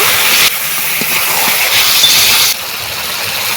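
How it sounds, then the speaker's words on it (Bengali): Steady, loud hissing sizzle as a whole burnt, boiled-soft tomato is added to a hot pan of spiced chicken and stirred, with a sudden surge at the start and a drop in intensity near the end. "এবারে দিয়ে দেবো পোড়া টমেটোটা পোড়া টমেটোটা একদম সেদ্ধ হয়ে গেছে তাই জন্য গোটা দিয়েছি দিয়ে একটু ছিমচিমে নেড়ে নেব"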